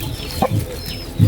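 Backyard laying hens, a flock of about ten, give short low clucks in two or three brief bursts close to the microphone. No voices are heard.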